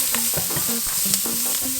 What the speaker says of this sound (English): I'm going to bring in the medium onion. Put it right in here. Start getting some color here.